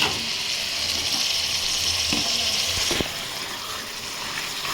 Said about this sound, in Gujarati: ટમેટાની ગ્રેવી આપણે નાખી રહ્યા છીએ